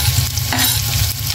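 Garlic and onion dropped into hot oil in a pan, a loud, dense, continuous sizzle heard up close with no talking.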